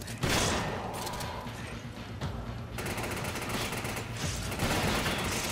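Continuous rapid gunfire in Resident Evil 5, dense overlapping shots and thuds forming a loud, nearly unbroken barrage throughout.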